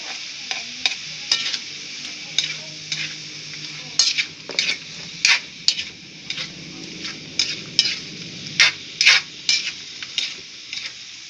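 Garlic fries in a pan for Filipino palabok, a continuous hiss broken by frequent sharp utensil scrapes and clinks from stirring, close and with no voices.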